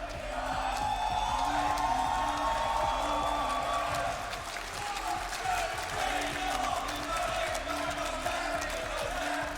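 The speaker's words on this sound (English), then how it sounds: "I could let this crowd make some noise right now." A large esports crowd cheers and roars at a Counter-Strike major trophy ceremony in Jönköping, a dense, steady wall of arena noise with scattered whoops and shouts, continuous for the whole stretch.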